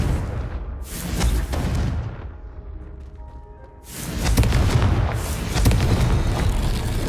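A Confringo spell explosion in Hogwarts Legacy, heavy booming blasts with rumbling crackle, a short quieter lull carrying faint tonal chimes, then another big roaring burst that sustains to the end.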